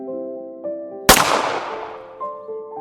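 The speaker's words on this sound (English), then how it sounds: "a gunshot shattered the silence" A single sharp gunshot cracks out and echoes away, over a sustained musical tone in the background.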